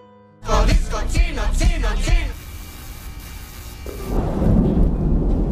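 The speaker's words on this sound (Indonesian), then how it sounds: "ternyata Adolfo terkena sambaran petir dan setruman listrik" A heavy crack of thunder from a lightning strike breaks from silence and rolls on, rumbling low and loud, then settles into a steady wash of rain.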